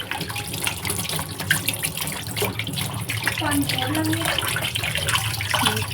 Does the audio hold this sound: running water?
yes